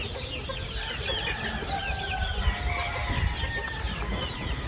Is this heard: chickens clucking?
yes